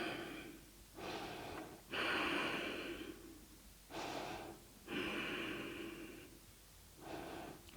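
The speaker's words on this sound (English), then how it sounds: "Taking deep breaths." Slow, deep breaths during a yoga chest-opening stretch, five or six long inhales and exhales alternating in a steady rhythm, close and clear with no talking.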